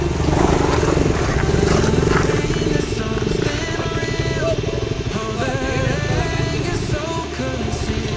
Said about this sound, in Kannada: ಲೆಜೆಂಡ್ ಎಲೆಕ್ಟ್ರಿಕ್ ಬೈಕ್ ಅಂತೂ ತುಂಬಾನೇ ಡ್ರಿಫ್ಟ್ ಹೊಡಿತಾ ಇದೆ